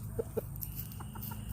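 Pet hens in a backyard coop give a few short, soft clucks over a steady low hum, the calls close but not loud.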